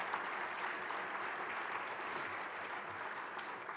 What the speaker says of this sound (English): how about joining me in a round of applause to thank the sponsors and welcome the students